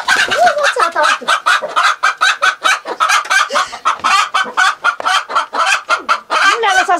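Hens on a rural Romanian farm cluck in a busy, continuous chorus of short repeated calls, fairly close and loud, with no talk over them.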